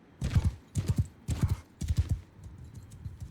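Horses gallop in Mount & Blade 2: Bannerlord with the Realm of Thrones mod, hooves pounding in four loud, rhythmic bursts of clip-clop, the final stretch trailing off softer.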